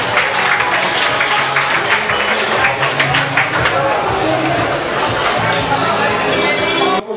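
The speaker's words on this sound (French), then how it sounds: "On peut les applaudir très très fort," Audience at a fashion show runway applauding the models, sustained clapping and crowd noise filling the space for several seconds, loud and close with murmuring voices mixed in.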